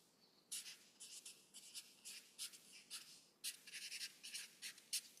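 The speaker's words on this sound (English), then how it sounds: "I'm gonna write it's Yuming's lunchbox." A marker or pen writing a name onto a lunch box label, with short scratchy strokes in quick bursts, close and fairly quiet, no voices.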